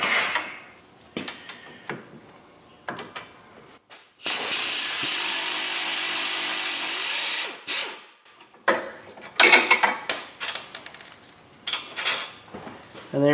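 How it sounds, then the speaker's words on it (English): A wrench works a 15 mm pinch bolt nut on a front-wheel-drive car during a clutch job. It gives metallic clicks and clanks, one long steady scraping stretch, then irregular close tool knocks and rattles. "So the next thing we need to do is remove this pinch bolt nut here."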